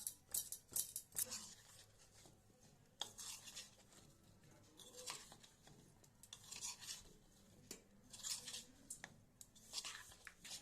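Fried potato pieces tossed with chili powder and salt in a bowl, giving repeated soft scraping and clinking of a spoon against the dish in irregular bursts, close and moderately quiet, with no talking.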